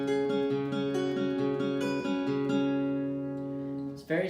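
An electric guitar plays a picked song part, repeating short melodic phrases and ringing notes at a steady moderate level, then trailing off into a sustained note before a brief final strum.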